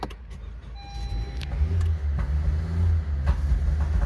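A 2020 Honda CR-V engine runs and revs high with a deep, continuous rumble, heard close by with some faint clicks and mechanical noises layered over it.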